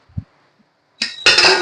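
A metal lid set onto a cooking pot of prawn and ash gourd malai curry, a small knock, a pause, then a loud clatter and rattle of the lid settling.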